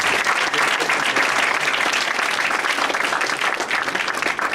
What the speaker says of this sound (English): Let's give them, everybody here, a nice round of applause.